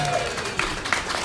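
Live studio audience at a tech show broadcast from a co-working center in Austin, Texas, giving a short burst of applause and crowd noise, with talking underneath.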